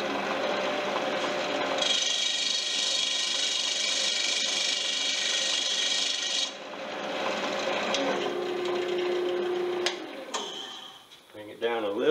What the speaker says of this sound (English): we're just going to use a little bit of sandpaper